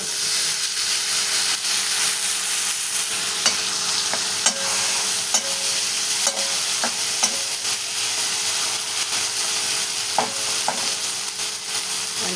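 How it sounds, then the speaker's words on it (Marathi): Sprouted moth beans for matki usal tossed into a pan with softened onion and frying, a loud continuous sizzle and hiss with occasional scraping stirs and small clicks, close and without talking. "आता मी ना याच्यामध्ये उसळ टाकून घेऊया"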